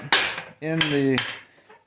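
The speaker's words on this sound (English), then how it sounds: "That'll kind of hold it together as I'm hammering and making things round." A hammer strikes a forged iron candle cup held in a swage, three sharp, close metallic blows with a ringing tone between the first two, then a fourth hit begins, heard alone.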